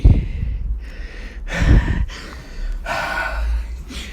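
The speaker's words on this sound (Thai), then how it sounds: "หายใจแรงชิบหายเลยกู" Heavy breathing from a man, with several loud, close, ragged breaths and gasps in quick succession and no talking.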